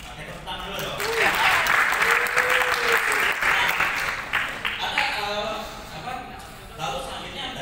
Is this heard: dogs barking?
no